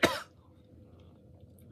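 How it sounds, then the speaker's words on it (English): A single short, sharp cough from one person, close and fairly loud, followed by quiet room tone. "Sorry, I keep coughing."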